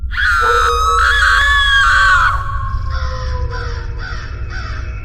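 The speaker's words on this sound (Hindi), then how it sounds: "तभी आधी रात को चीखने चिल्लाने की आवाज आने लगती है" A cartoon witch climbing to a rooftop at midnight gives loud, shrill, wavering screams, a long wail followed by several shorter rising shrieks over a low rumbling background.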